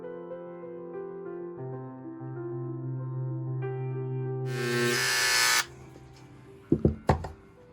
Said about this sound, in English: It ain't quite the same as a CNC or stamp program, but the old engraver works.